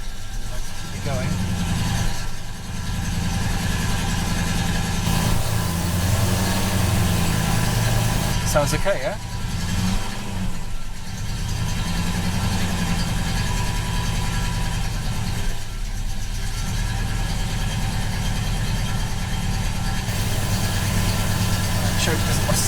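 A classic Rover P5B engine idles steadily and close, a continuous low rumble that holds level throughout while someone speaks briefly over it.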